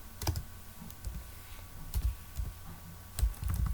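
Computer keyboard keys clacking in short irregular bursts while someone types out JavaScript code, with pauses between clusters of keystrokes, close and fairly quiet.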